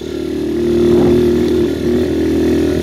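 A Viper 150cc dirt bike engine runs steadily on a rural Nebraska countryside road, a loud buzzing single-cylinder drone that swells briefly and then settles, close and continuous with no talking.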